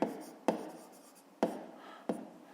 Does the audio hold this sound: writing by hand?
yes